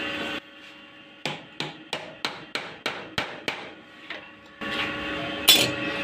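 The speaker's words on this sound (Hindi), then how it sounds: "एक मुँह का जो पेचकस है वो हम बेड के इस साइड पे यहाँ पर लगा देंगे और इसको यहाँ से ठोक देंगे" A screwdriver is struck repeatedly with a hammer against the cam bearing area of a Honda CG 125 engine, giving about eight sharp metallic blows in a steady rhythm, close and loud, with a brief clatter near the end.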